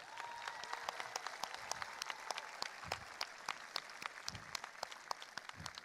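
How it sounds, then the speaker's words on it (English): A high school graduation crowd claps in a sustained round of applause, with individual hand claps standing out crisply against the broader clapping, moderately distant and without talk. "I ask for everyone to join me in celebrating Jeff and Catherine Shandler with a well-deserved round of"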